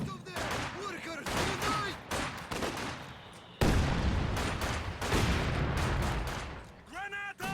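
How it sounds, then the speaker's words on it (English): Heavy mortar shells pound a position in a real-time strategy game, a dense barrage of repeated booms and crackling gunfire with a sharp loud impact midway, under a commentator's voice. "He's going to use that heavy mortar to start barraging this position."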